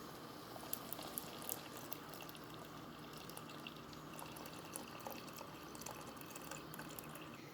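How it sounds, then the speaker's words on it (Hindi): Milk is poured into Kashmiri green tea in a pot: a quiet, steady liquid stream with faint drips and splashes running the whole time, with no talking. "ऐड करेंगे दूध"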